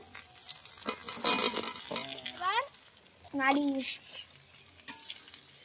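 Potatoes frying with onion, ginger and garlic in a pan on an outdoor clay stove, a soft steady sizzle with stirring scrapes, partly under bursts of voices and a cooing sound.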